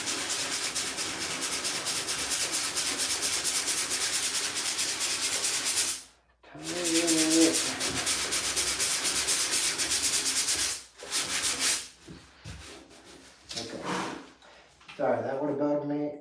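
Hand sanding a cracked fiberglass tub wall with 120 grit sandpaper, a steady raspy back-and-forth scrubbing up close, pausing several times, with a voice speaking briefly during the gaps.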